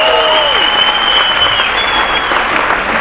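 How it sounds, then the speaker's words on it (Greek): Loud, sustained applause and cheering from a live concert audience in Nicosia, continuous dense clapping close by with a few whistles and a fading tone from the stage. "Δώστε μου ένα δυνατό χειροκρότημα για τους πολίτες, τους συνεργάτες μας."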